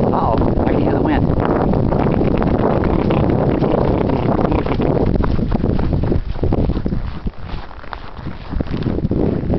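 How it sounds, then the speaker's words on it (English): Strong wind roars during a snowy blizzard, a loud, steady gusting rush that buffets the microphone and eases slightly near the end. "I can hear the wind."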